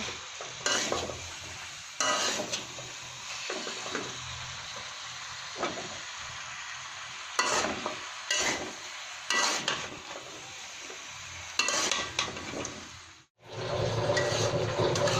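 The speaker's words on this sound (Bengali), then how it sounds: "শুটকি মাছের তরকারি ভালো করে কষিয়ে কষিয়ে করে নেব" Dried fish curry with eggplant, potato and bottle gourd is stir-fried in a pan, producing repeated bursts of scraping and stirring over a constant sizzle, close and moderately loud, with a short pause near the end and no talking.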